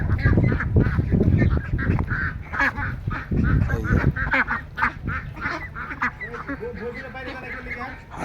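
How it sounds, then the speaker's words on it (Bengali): Belgian hybrid ducks at a sale quack and honk in a noisy flock, calls overlapping close by while people talk nearby. "অনেক সুন্দর সুন্দর হাঁস।"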